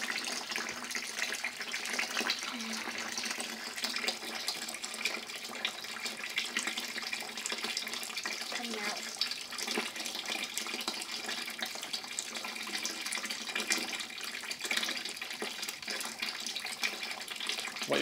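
Liquid pouring steadily out the bottom of the mash while sparging grain to brew bitter beer, a continuous splashing trickle like a running tap that holds for the whole stretch, with no talking.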